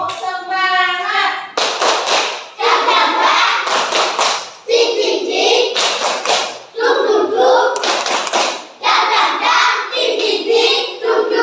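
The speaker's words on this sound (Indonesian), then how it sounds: "Sekarang anak-anak bisa melakukan tepuk semangat." Children in an Indonesian classroom perform a rhythmic spirit clap, loud bursts of group hand claps in repeated patterns with short pauses between phrases, alongside a few spoken or chanted lines.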